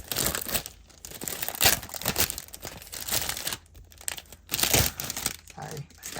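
A stuck planner cover is peeled out of crinkly plastic packaging, giving close, loud crackling and tearing bursts that come in uneven waves with a speaking voice over it.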